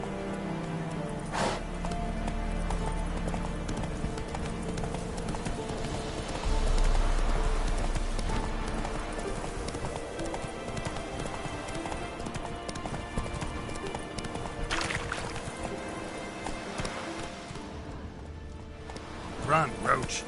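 Horse Roach gallops with steady clip-clop hoofbeats in The Witcher 3, running continuously at moderate volume beneath game music and someone speaking.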